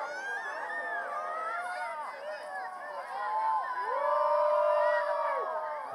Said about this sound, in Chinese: 等一下，大家欢呼的